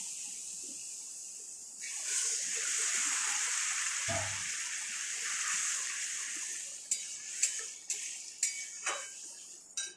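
Chana dal tipped into cooked, fried masala in a pan for a paneer dish, a sustained sizzle and hiss followed by several sharp clinks of a spoon against the pot.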